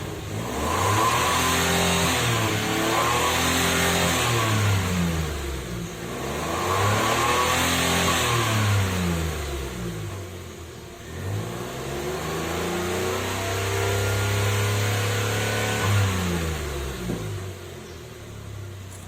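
A Datsun Go car engine revved repeatedly just after starting to blow dirt out through the exhaust, rising in three long swells from idle to high revs and falling back, close and loud with no talking.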